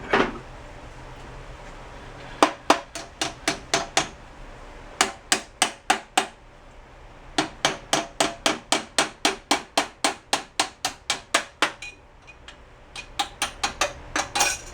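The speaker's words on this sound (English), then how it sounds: "we're gonna go whittle or just hammer the bejesus out of it" A metal part on a 1971 Honda CB350 motorcycle is struck with a hammer in close, sharp blows, delivered in rapid bursts of several hits with short pauses between runs, and no one speaks.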